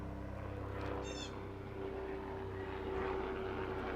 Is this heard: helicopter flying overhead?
yes